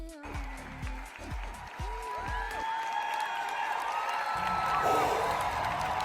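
A crowd applauds and cheers after a dance performance, with steady clapping that swells toward the end and loud whoops and voices near the start.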